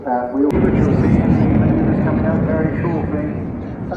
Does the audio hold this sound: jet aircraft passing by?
yes